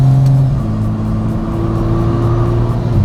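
BMW F30 accelerating hard in Sport Plus mode, engine note loud and close with quick gear shifts breaking the rising drone.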